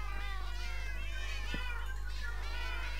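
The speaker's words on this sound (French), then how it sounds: "Ah, les pauvres chats, j'ai pas envie de frapper, c'est triste mais j'ai l'impression que plus j'en tue, plus y en a." Many cats meowing in Minecraft, overlapping high mewing calls repeating throughout over a steady low hum, with no talking.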